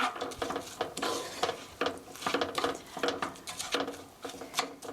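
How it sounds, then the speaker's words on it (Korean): Meat and vegetables for a fusilli gratin being stirred in a pan, a utensil scraping and clinking against the metal in an uneven rhythm of soft strokes, close and fairly quiet with no talking. "고기랑 채소를 먼저 이렇게 섞어주세요"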